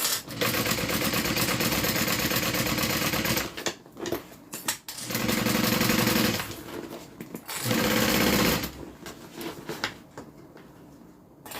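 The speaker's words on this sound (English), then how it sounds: "We're just going to sew and turn." A sewing machine stitches a custom order in several bursts, with one long run, then shorter runs separated by brief pauses. It is close and loud, with the whirring ending in quiet near the close and no talk.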